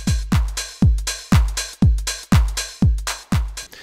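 House kick drum pattern with an extra kick, booming deep thumps in a steady beat with one added hit breaking the even spacing, alongside crisp hi-hat ticks, loud and up front with no voices.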